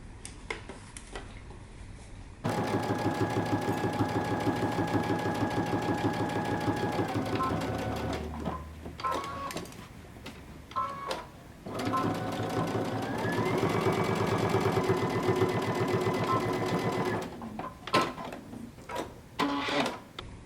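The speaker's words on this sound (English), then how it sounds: "we're going to stitch down the side and across the bottom" A sewing machine stitches down the side and across the bottom of a jumpsuit collar in two long, steady runs of rapid mechanical chatter, separated by short pauses with handling noise and brief spoken moments.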